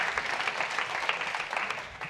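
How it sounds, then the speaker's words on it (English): Audience applauding after a talk at an open-source conference: steady, dense clapping from a crowd, moderately distant and continuous throughout. "I just want to give the CV team kind of like a round of applause"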